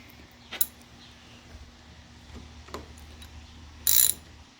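A ratchet tightening a 10mm nut on the clutch cable of a 2007 Victory Vegas motorcycle, with a few faint, sparse clicks and a louder short burst of ratcheting near the end over a quiet background.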